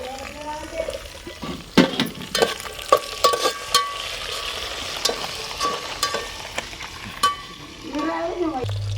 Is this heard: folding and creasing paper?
no